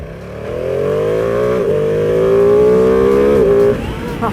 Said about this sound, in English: There's nothing like the sound of a twin Ducati, man.